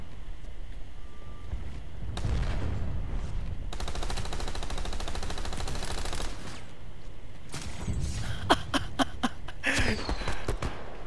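Bursts of automatic gunfire in the online shooter Planetside 2, rapid volleys and scattered single shots at moderate distance over a steady background din, with no talk.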